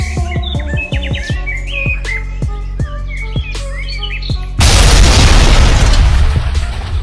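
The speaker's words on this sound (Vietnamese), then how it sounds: "Là con chim gì nhỉ?" Bird calls in a staged Nerf gun fight scene, a run of sharp repeated chirps and tweets over a low drone for several seconds, then abruptly replaced by a loud booming blast that fills the rest.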